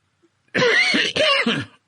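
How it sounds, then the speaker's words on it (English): A single person coughs alone, two harsh throaty bursts back to back close to the microphone, with a throat-clearing quality and silence before and after. "I muted myself and coughed."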